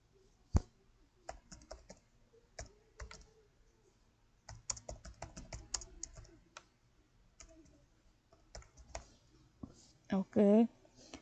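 A taxpayer's name is typed on a computer keyboard in quick irregular bursts of crisp, close key clicks separated by pauses, with a short spoken remark near the end.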